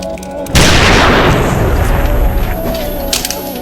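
A single loud gunshot from a Fight Club film scene bursts out sharply, then decays into a long, rumbling ring that fades over the next few seconds.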